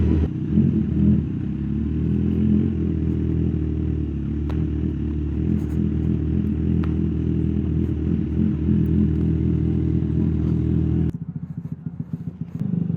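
A motorcycle fitted with a big exhaust idles and revs nearby with a steady, rumbling drone that suddenly drops away near the end.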